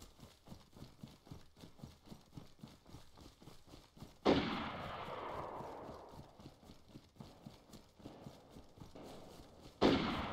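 Gunfire in the video game DayZ: two sudden loud shots with long echoing decays over a steady rhythmic clip-clop-like background pulse, the shots sounding fairly close.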